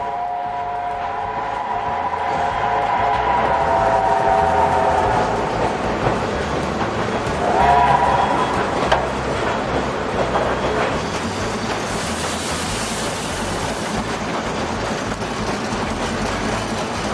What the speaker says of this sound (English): The 1910 Alco locomotive is running with great ease